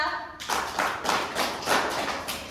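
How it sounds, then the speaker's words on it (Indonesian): Classroom applause for a student during an Islamic religious education lesson, several hands clapping in short, rhythmic bursts, close and fairly loud, with a voice heard briefly at the start. "Oke, tepuk tangan untuk Askia"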